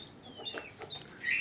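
Caged roosters cluck softly nearby in a few short, scattered calls, faint and brief, with a higher chirp toward the end.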